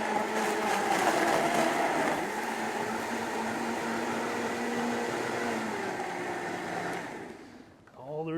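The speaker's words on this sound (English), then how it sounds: "If you have a terrific blender like this," A blender whirs steadily as it purees watermelon with basil and mint, a continuous motor drone holding for several seconds before cutting off near the end.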